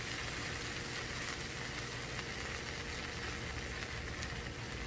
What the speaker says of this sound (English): So I'm just gonna wait for that to stop sizzling a little bit